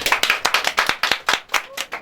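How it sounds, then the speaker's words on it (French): Audience applause in a radio studio, a dense burst of clapping from a small crowd, steady and fairly close throughout. "qu'on va peut-être applaudir encore une fois"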